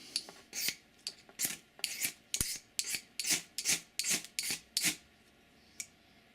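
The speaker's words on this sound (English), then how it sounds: "Once you scrape that surface off" A dozen rhythmic, raspy scrapes of a Forever Striker ferro rod being struck and rubbed, each stroke a bright gritty burst, close up and evenly spaced before tapering off, with no talking.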